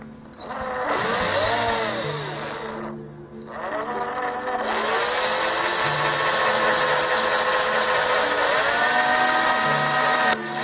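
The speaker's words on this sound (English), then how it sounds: "Regular step drill bit that I use." A power drill fitted with a step drill bit cuts through material in long loud bursts, the motor whine dipping and rising as each step bites, with a brief pause between runs.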